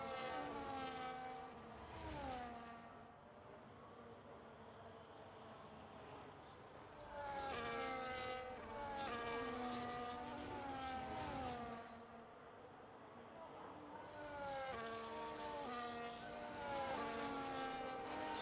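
Race cars in the F1 25 video game run the formation lap, engines swelling in repeated rising passes with high harmonic whines, separated by brief lulls of quieter running.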